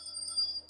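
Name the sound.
small bell inside an old brass candle holder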